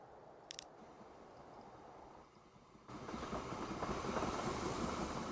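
A diesel locomotive hauls a freight train in Transport Fever 2, a steady low rumble with faint rhythmic rail clatter that swells louder halfway through as the train draws nearer, with no talking.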